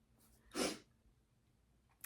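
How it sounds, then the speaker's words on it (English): A single sharp allergy sneeze bursts out close and clear after a short intake of breath, then the room falls quiet apart from a faint breath at the end. "allergies, I have to sneeze"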